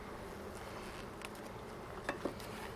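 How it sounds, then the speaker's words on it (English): Honeybees buzz in a steady dense drone inside an opened hive after smoking, with a few faint taps and knocks over the constant hum. "they're buzzing away in there"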